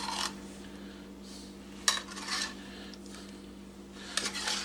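Canned blueberries are spooned onto a blueberry lemon dessert, heard as soft scrapes and a few sharp metal clinks of spoon against can or dish, quiet and close over a low steady hum.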